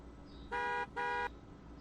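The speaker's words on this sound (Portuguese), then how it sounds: "E depois vai voltar de novo a buzina do carro." Two short car horn honks in quick succession, each about a third of a second, loud and steady over a quiet background hum.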